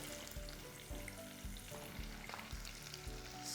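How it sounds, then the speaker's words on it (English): Oil crackles and sizzles steadily in a frying pan, with faint clinks and stirring scrapes woven through the constant hiss. "once the oil starts sizzling"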